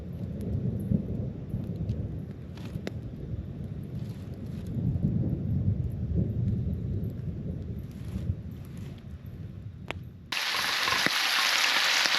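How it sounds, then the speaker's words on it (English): Thunder rumbles low and long through the Australian bush at a riverside camp after rain, a distant rolling roar with wind noise on the microphone, then a sudden burst of hiss near the end. "There's been heaps of thunder and lightning in the background."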